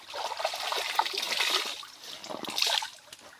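River water trickles and splashes softly while clothes are washed in a river, a faint continuous babbling with small splatters and occasional louder splashes.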